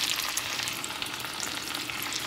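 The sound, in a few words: frying many pieces together in a little oil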